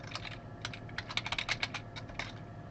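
Quiet, close typing on a computer keyboard as a sentence is written, with irregular bursts of sharp key clicks and brief pauses between words.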